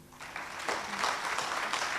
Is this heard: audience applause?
yes